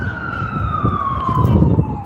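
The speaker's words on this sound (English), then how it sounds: "I got these ambulances going by. It's gonna be kind of loud." Ambulance sirens pass by on a street, a loud wailing tone that slides steadily downward as the vehicles go past, with traffic rumble underneath.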